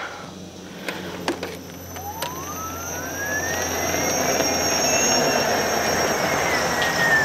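A King Song electric unicycle on a warm-up acceleration pass gives a steady rising whine that climbs in pitch over a broad rushing noise, with a few sharp clicks early on and no talk.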